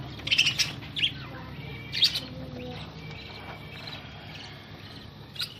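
Female budgie in a clay breeding pot set on a cage floor, giving a few short sharp chirps near the start and again at the end over a quiet background.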